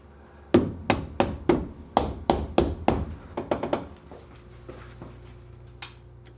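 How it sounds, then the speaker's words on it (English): A rubber mallet strikes a Jeep Wrangler front axle differential in a run of about a dozen sharp, dull thuds, evenly spaced at first, then quicker and lighter before tapering off, close and alone. "Gently hammer the diff with a rubber mallet."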